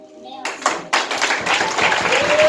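Children clap at a Bible-quiz gathering, with scattered hand claps building into a brief burst of applause while voices talk over it.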